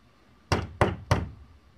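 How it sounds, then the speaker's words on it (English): Three quick knocks on a door, close and solid, evenly spaced in a short burst followed by quiet. "Please, just knock on the door."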